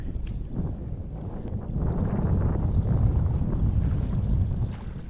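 Strong wind buffets the microphone aboard a small fishing boat at sea in rough waves, a low turbulent rumble and sloshing that grows louder midway, with no talk.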